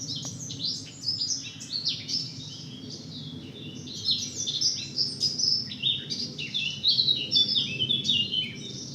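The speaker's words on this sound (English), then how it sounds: "What a wonderful warbler that is." A warbler with a rich, nightingale-like song delivers bright, varied phrases of high chirps and trills, repeated throughout over a low rumbling background along a country lane near Arundel.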